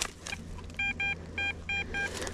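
A metal detector gives four short, evenly spaced tonal beeps of a coin-type signal in the open field, clear above a faint low background rumble.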